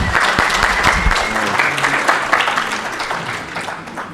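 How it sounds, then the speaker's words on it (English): An audience at the BalCCon security conference gives a warm round of applause for a speaker, steady dense clapping from many people that gradually tapers off. "Give him a warm applause, please."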